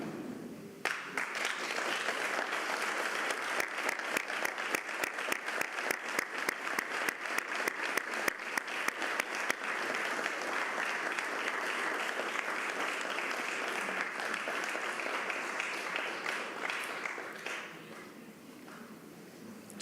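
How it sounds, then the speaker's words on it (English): Fire academy graduates at their graduation ceremony applaud their families, a dense, sustained round of clapping from a large group that holds steady for most of the stretch, then thins and fades near the end. "you're going to give your families a round of applause"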